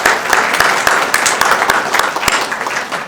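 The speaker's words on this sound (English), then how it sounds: "let's give Lisa a round of applause" An audience at a history center talk applauds, a steady wash of many hands clapping with sharp individual claps standing out, filling the whole few seconds.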